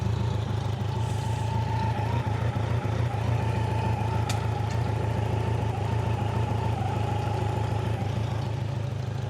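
A BMW K100 motorcycle engine on a cafe racer project runs steadily at idle while gears are tried, a constant low mechanical hum with a faint whine and one brief click, no talking.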